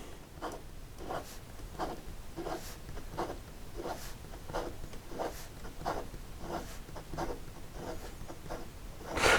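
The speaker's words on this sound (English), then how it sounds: "in regard to some fast writing" A Monteverde Engage rollerball pen scratches quickly across paper in fast writing, with soft rhythmic strokes about twice per second, close up and quiet with no voices.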